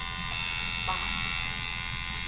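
Close, steady high-pitched electric buzz of a tattoo machine running continuously at an even pitch throughout, with no speech.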